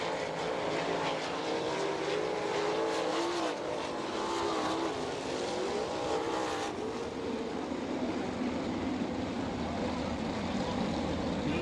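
Sprint cars racing in a B main at Attica dirt track in Ohio, engines roaring loudly and continuously with rising and falling pitch as the cars sweep past, a thick wall of motor noise throughout.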